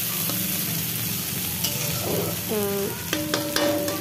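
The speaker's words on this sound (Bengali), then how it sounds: "টমেটো দুটোই দিয়ে বেশ কিছুক্ষণ ধরে ফ্রাই করব" Tomatoes frying in a pan for egg chowmein give a steady sizzle, with scraping strokes of a spatula stirring them at intervals, close and with no talk.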